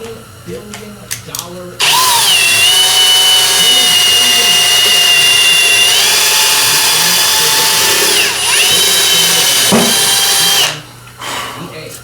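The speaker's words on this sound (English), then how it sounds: "Yeah, needs more drilling." A power drill whines loudly and continuously for several seconds, pitch dipping briefly as it bites, after a few short clicks and talking.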